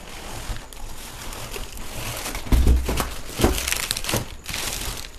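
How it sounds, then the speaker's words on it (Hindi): Packaging around a Safari trolley bag is torn and crinkled open up close, with bursts of rustling plastic and a couple of louder rips, no talking. "पैकेजिंग तो बहुत अच्छी है, इतने अच्छे से पैक करेंगे, खोलना भी मुश्किल हो रहा है"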